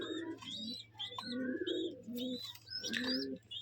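Gerebaj pigeons with feathered feet at a Rajshahi loft coo close by in a repeated, throaty rhythm, a few soft chirps mixed in over a low steady hum.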